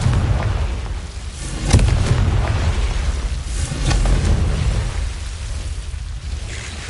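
Confringo blasting spell from Hogwarts Legacy bursting in a loud, booming explosion with a rumbling roar that swells, dips and rises again before fading.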